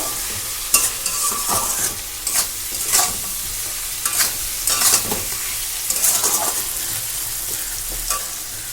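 Hilsa fish sizzles steadily in hot oil with black cumin and green chillies, while a spatula scrapes and stirs the pan in irregular strokes close up, with no voices.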